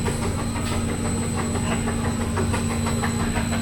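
An LPA-0000 lid placer runs cans through its star wheels, a steady loud mechanical whir and clatter with faint rattles and a high whine, continuous with no talk.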